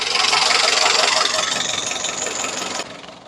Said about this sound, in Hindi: ये गाड़ी अभी आइडल पे खड़ी है और स्टार्ट है।